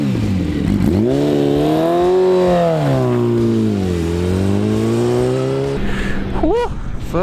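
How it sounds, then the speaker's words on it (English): A Yamaha R1 sportsbike is ridden on the road, its engine revving up and down through the gears with a loud, close, rising and falling whine. A short sharp rev bursts near the end, and a voice speaks over the engine. "First little ride on Tom's R1."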